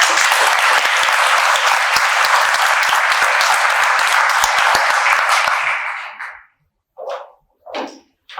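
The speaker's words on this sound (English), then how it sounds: "Let's have a round of applause for Marcia." Dense, loud round of applause from a ceremony audience that holds steady for about six seconds, then fades out, followed by a few short scattered bursts.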